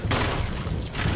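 A brief, loud flurry of gunshots in the Resident Evil HD video game, several overlapping reports packed closely together.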